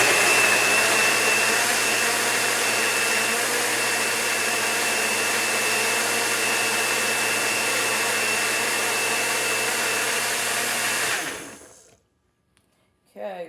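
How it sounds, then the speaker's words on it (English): A blender runs loud and steady, blending blueberries and raspberries into a green smoothie, a constant whirring roar for about eleven seconds that then winds down and stops, followed by near silence. "now I'm going to blend in my blueberries and raspberries to get them nice and smooth"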